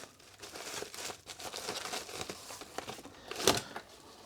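Crinkling and tearing of packaging as a mail parcel holding ZX Spectrum parts is unwrapped, soft continuous rustles building to one sharp rip near the end, close and alone with no talk.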